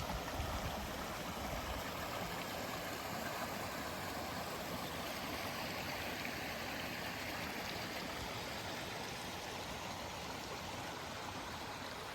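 Steady broadband rush of a moorland stream and waterfall on a misty Peak District walk at Broad Clough, a continuous even wash of water with no voices.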